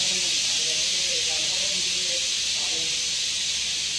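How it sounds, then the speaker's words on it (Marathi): A steady, loud hiss of escaping steam runs throughout, like a pressure cooker venting, with faint indistinct voices beneath. "म्हणून कुकरच्या शिट्यांचा आवाज येतोय तुम्हाला."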